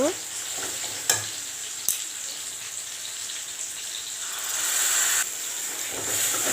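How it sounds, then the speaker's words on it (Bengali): Ground cumin, coriander, Kashmiri chili and turmeric sauté in a pan for doi katla, a steady close hiss of frying broken by a few sharp spatula knocks, the sizzle swelling louder near the end. "জিরে গুঁড়ো ধনে গুঁড়ো কাশ্মীর লঙ্কা গুঁড়ো হলুদ গুঁড়ো এগুলো দিয়ে ভালো করে কষাবো"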